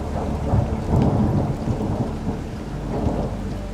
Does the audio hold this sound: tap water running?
no